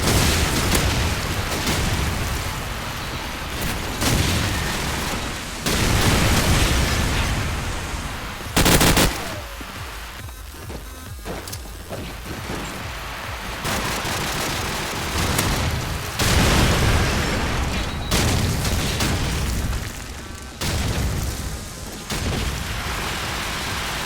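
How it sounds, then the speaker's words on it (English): Grenade blasts and gunfire from Call of Duty 4 promod gameplay, with repeated loud booms and bursts of shots scattered over sustained game action, no talking. "here's 1 or 2 clips of these nades working"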